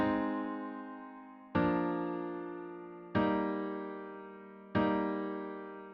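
A bright major chord is struck four times at an even pace, each one ringing clearly and decaying gently before the next.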